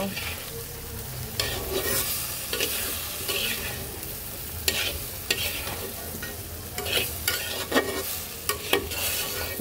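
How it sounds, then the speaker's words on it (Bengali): Turmeric, coriander powder and salt fry and get stirred in a pan for a kaikla fish curry with tomato and eggplant, giving a steady close sizzle broken by repeated spatula scrapes and stirring strokes, with no talking. "এবার সব কিছু সুন্দর করে একটু ভাজা ভাজা করব"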